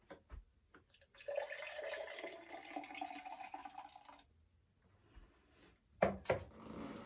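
Homemade immune booster juice of carrot, apple, orange and pear is poured into a glass in a steady liquid stream for about three seconds, close and moderately loud, followed by brief clinks and handling sounds.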